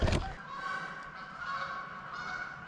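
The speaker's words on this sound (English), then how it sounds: "Geese, cool." Geese honk outdoors at dusk in open country, one sharp close call at the start and then fainter, drawn-out honks carrying from further off.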